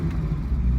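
A Ferrari 308 engine runs steadily, a deep close rumble with a slight rise and fall in its note and no voices over it.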